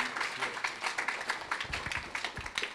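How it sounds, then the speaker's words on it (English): A small audience at a science talk session gives a soft round of applause, heard faintly as steady, light patter of hand claps for a few seconds. "So let's give another round of applause"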